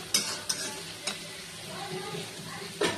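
Shidol, fermented dried fish, sizzles in a hot pan for chutney, a close, steady frying hiss punctuated by several sharp clinks of a utensil scraping and stirring, with no talking.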